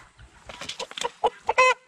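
A three-month-old Redbro rooster gives a series of clucks building into a short, hoarse crowing call, close by and moderately loud.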